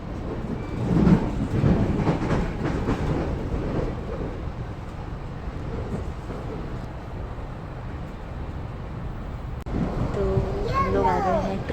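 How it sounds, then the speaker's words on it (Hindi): A train rolls along the tracks in Toronto, a steady low rumble of wheels and carriage noise throughout, with people talking nearby over the ride. "So हम लोग को मिल गई ट्रेन।"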